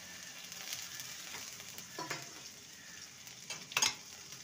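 Curry leaves hit hot oil for a semolina and potato breakfast dish, producing a soft, low-level hiss and crackle with a couple of brief sharper spits near the end.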